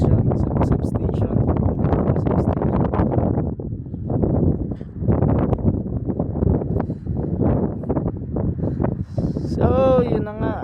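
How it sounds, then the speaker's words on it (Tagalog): Strong gusting wind during a sandstorm, roaring and buffeting the microphone in long rough surges that ease briefly and return, with a voice speaking faintly at the end. "hangin lumalakas na"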